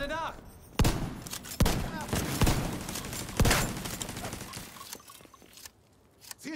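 Covering fire rings out in The Division 2: about five sharp, loud gunshots spaced irregularly, each with a short ringing tail, amid game ambience and occasional voices.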